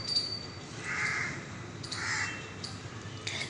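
A crow caws twice, a harsh rasping call each time about a second apart, heard at moderate distance over faint outdoor background noise.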